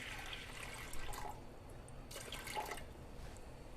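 Water poured into a heated cooking pot at the start of making Peshawari namkeen gosht (salted mutton), a soft, faint splashing and trickle heard in a few short bursts.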